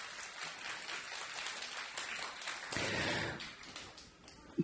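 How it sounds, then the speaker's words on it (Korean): An audience applauds at a ballet performance, a fairly soft, dense wash of clapping that swells midway and then thins out, with a sharp knock at the end. "네, 여러분 다시 한번 뜨거운 박수 부탁드리겠습니다."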